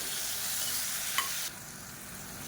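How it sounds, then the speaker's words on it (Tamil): Tomatoes sauté in a pan for a tomato chutney, a soft steady sizzle with one small clink midway, after which the hiss abruptly drops quieter. "தக்காளி வதங்குறதுக்கு உப்பு சேர்த்துக்கலாம்"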